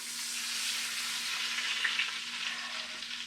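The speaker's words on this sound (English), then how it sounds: "Can you hear the sizzle?" Hot browned pork fat is poured over a roast beef and hisses in a steady, close, fairly quiet sizzle with soft crackling throughout, no voices.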